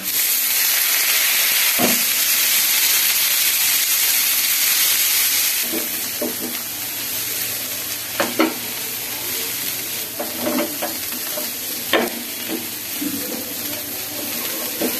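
Spinach hits a pan of reddened fried onion and garlic with a loud, dense sizzle. After a few seconds the sizzle settles into a softer crackle, broken by occasional spoon clinks and stirring.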